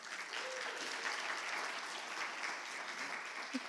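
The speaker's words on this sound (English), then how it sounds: "So, round of applause for Mr. Mora." An audience at a Poetry Out Loud event breaks into sustained applause, a dense even wash of many hands clapping that holds steady and fairly close.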